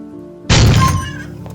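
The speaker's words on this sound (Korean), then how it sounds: "취조실 문이 쾅 하는 소리와 함께 열렸고" A heavy interrogation room door bangs open in an audio drama: one sudden loud slam with a crashing burst that rings out and fades over a low background hum.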